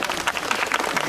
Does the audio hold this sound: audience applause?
yes